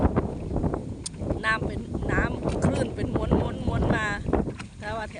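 Strong wind at the Khlong Pho reservoir at Mae Poen during rain, heavy gusty buffeting across the microphone with someone talking over it.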